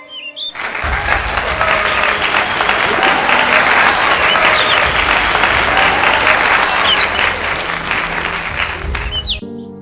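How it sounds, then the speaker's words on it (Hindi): A crowd applauds steadily and densely for several seconds, loud and continuous from start to finish, with faint chirps mixed in. "धीरे धीरे ताली बजती है।"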